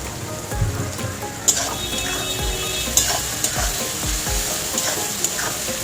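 Three large chopped onions fry with salt in a pan. A loud, rain-like sizzle runs throughout, with a spatula knocking and stirring every second or so. No one speaks.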